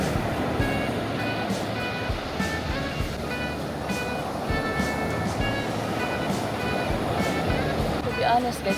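Ocean waves washing onto a resort beach, a continuous surf roar with someone talking over it.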